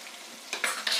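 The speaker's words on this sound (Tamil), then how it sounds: "இது ரெண்டு நிமிஷம் கொதிக்கட்டும் சேர்ந்த மாதிரி." A coconut, cumin and green chilli paste cooks with onions in a pan, giving a soft steady sizzle broken by a few spoon stirs and scrapes, close by with no talking.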